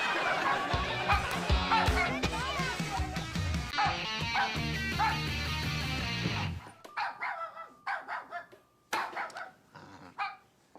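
A neighbour's dog barks in a string of sharp, uneven barks and yips that stand out against quiet, after a dense stretch of household sound.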